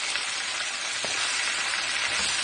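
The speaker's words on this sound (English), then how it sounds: "I already put the oxtail in the pot right here. So I'm just going to allow them to fry" Oxtail pieces fry in hot oil in a pot, a loud, dense, continuous sizzle heard close up and unbroken throughout.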